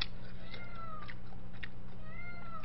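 Cat meowing indoors during a tteokbokki eating session in a home with two cats, a few drawn-out, rising-and-falling cries heard faintly over a steady low hum, no talking.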